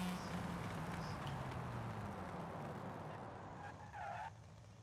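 Car engine roar with brakes and skidding tires in a racing video game, a steady loud drone that ends in a short rising tire squeal near the end.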